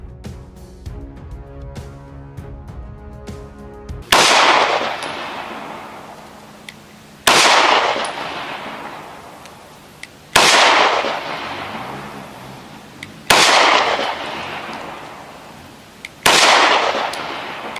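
Test shots from a Smith & Wesson Shield EZ pistol chambered in 30 Super Carry, five sharp loud reports evenly spaced about three seconds apart, each ringing off briefly, following a few seconds of quiet lead-in.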